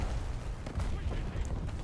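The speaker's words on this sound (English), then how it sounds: "That's a big old explosion." A large explosion goes off in a video game, heard as a dense, rumbling burst of booming noise that fills the whole short stretch at steady loudness.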